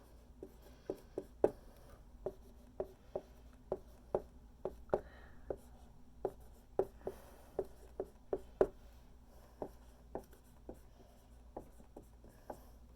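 Pen tapping and scratching on paper in short strokes, a steady run of small close-up marks, as numbers for NaOH in a titration calculation are jotted down, with no talk.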